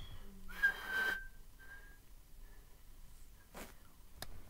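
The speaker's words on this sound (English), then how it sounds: "Hey, Thomas, you think I should blow my whistle?" A toy train whistle gives a short, clear tone, then a fainter second toot during a play scene, with quiet rustling in the gaps.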